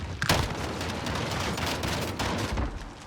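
Gunfire in a video game shooter: dense, continuous volley of shots filling about three seconds, loud and close, with a heavier burst near the start and another toward the end.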